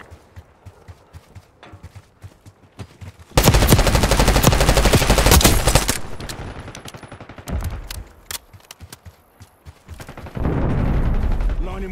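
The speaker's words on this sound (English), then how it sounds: "HVT is taking fire." Gunfire in Call of Duty Black Ops 6: scattered single shots, then long loud bursts of automatic fire, more rapid clusters of shots and a final heavy burst, near and intense, with occasional game voices.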